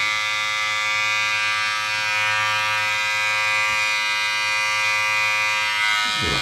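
A Wahl Magic Clip hair clipper runs with its lever open, giving a loud, steady electric buzz that holds constant throughout with no talking.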